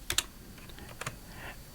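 Someone types a command on a computer keyboard: a quick cluster of light key clicks, a pause, then another short burst of taps, all quiet and close.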